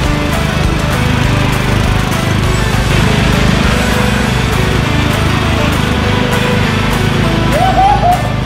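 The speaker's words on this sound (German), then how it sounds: "Ich wette, wir verkaufen den Rasenmäher heute noch, weil so viel Spaß wie Daniel damit hat" A lawn mower for sale at a Hornbach hardware store runs loud and close, its engine a steady, rough drone that holds for the whole stretch.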